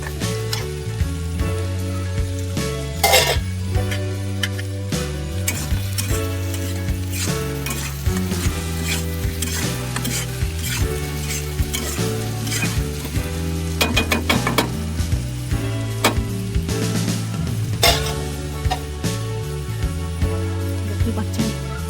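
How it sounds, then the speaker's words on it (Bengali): Raw potatoes frying with chickpeas in a pan for a village-style chickpea curry, giving a steady close sizzle broken by repeated scraping and stirring clatters throughout. "এর সাথে আমি এই আলুগুলো, কাঁচা আলুগুলো এর মধ্যে দিয়ে দিচ্ছি"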